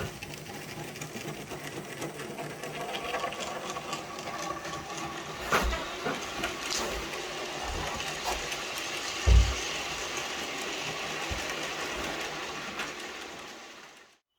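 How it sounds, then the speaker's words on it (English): An N-gauge Farish 8F model steam locomotive climbing an incline, a continuous close mechanical motor whir with faint rhythmic rail clicks and a couple of soft knocks, fading out at the end; no voices. "I'm running this loco up the incline."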